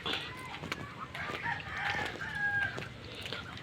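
Backyard free-range chickens and ducks cluck and call in short bursts at moderate distance amid outdoor background noise.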